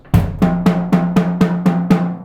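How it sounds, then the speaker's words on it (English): Eight evenly spaced drum hits boom out, low floor tom strikes with a kick drum's deep thud on the first beat, loud and close with no talking. "what I'm going to do now is play it on the floor tom"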